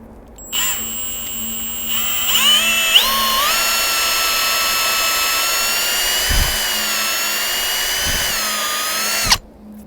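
A power drill bores a tap hole into a maple tree trunk with a steady high-pitched whine that runs continuously for about seven seconds. The pitch rises briefly as the drill bites, then the motor stops abruptly, with no talking.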